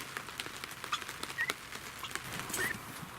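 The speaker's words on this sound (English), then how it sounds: "you can hear it raining on the top" Rain pattering lightly on a roof while the sun shines, a faint, steady scatter of small drops close overhead with a few brief chirps in the background.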